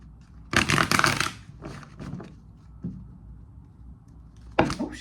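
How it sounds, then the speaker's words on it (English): Tarot cards are shuffled by hand in several quick riffling bursts, one long rustle followed by shorter flicks and taps, close and crisp against a quiet room. "let me shuffle one more time"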